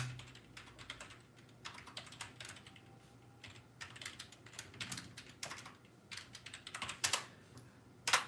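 Typing on a computer keyboard, close and quiet, with irregular clusters of keystrokes and short pauses, ending in a couple of sharper, louder key hits; no talking.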